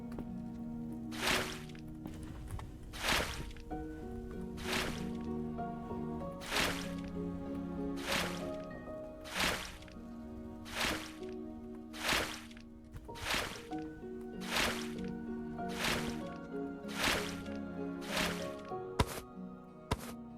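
Crops being watered in a video game: a steady run of splashy water bursts, each about a second apart, over a continuous musical backdrop with no talking.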